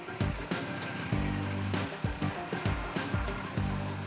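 Pressure washer spraying water against the siding of an 1980s house, a loud continuous hiss with repeated bursts and surges as the spray sweeps across the surface.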